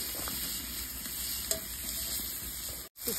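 Pumpkin sizzling while frying in a pan at an upstate New York glamping site, a steady close crackling sizzle with faint stirring and a brief clatter near the end.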